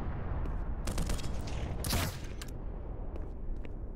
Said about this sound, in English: There's all these explosions going off in the distance